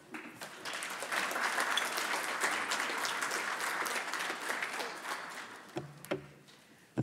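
An early-morning audience at a Parkinson's Foundation genetics research talk breaks into loud, sustained applause, dense clapping that swells and holds for several seconds before thinning into a few scattered claps and a brief voice near the end.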